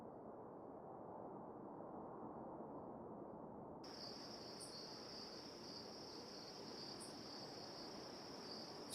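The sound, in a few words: crickets chirping in the Tower Simulator 3 video game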